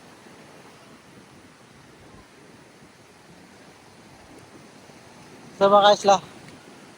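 Strong sea waves wash onto a beach on Boracay island in a faint, continuous surf hiss, with a brief burst of nearby speech near the end.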